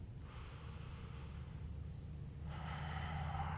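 Deep, slow breathing during a gentle yoga stretch: a long, soft inhale followed by a fuller, slightly louder exhale, close and unaccompanied by talk.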